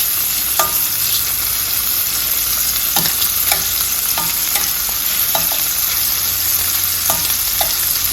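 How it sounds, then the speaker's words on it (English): Shrimp cook in a pot with a loud, constant sizzle, punctuated by scattered metallic taps and scrapes of a utensil, close-up and without speech. "Now I'm gonna add the shrimp to the pot"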